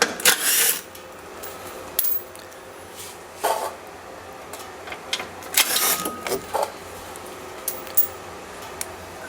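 Bolts of about 8 mm being undone from a plastic under-pan beneath a Mercedes GLA250 during an oil change, heard as scattered close clicks, ratchet ticks and plastic knocks spaced across the stretch, with no talk.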